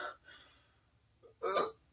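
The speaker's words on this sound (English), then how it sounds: "sorry for that burp" A short, faint burp comes from a wrestling show presenter. A soft throaty sound precedes one brief, louder belch near the end. Nothing else is heard.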